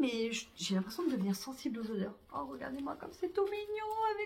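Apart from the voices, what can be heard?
No everyday noise stands out behind the speech.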